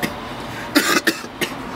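A few short, sharp coughs in quick succession over a steady low background hum, fairly close.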